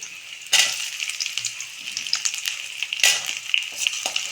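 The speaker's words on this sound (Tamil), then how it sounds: "வெங்காயம் நல்லா வதங்கிடுச்சு" Onions sautéing in a pan with ginger for chana masala, a steady close sizzle with a few louder bursts as they are stirred, no talking.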